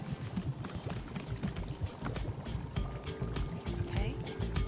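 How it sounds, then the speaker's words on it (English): Tea pours from a pot into a cup, pulled by a rope in the cozy video game Wanderstop, a soft liquid stream running under steady talking and game music. "pull the rope you see here in order to pour tea into the cup"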